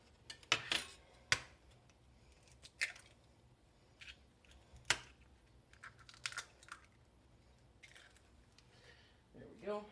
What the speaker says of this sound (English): we will make sure that these are well, truly and fully scrambled here